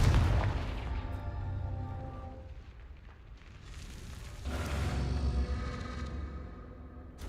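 In the video game Hogwarts Legacy, a Confringo fire spell bursts in booming, crackling explosions, a strong blast at the start and another swelling burst midway, with rumbling debris between.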